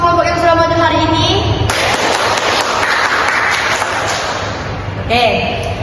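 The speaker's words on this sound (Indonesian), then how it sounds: "Beri tepuk tangan dulu dong untuk semua kelompok yang sudah maju hari ini." A school class bursts into loud, close applause for the groups that presented, with the clapping running for several seconds between stretches of talk.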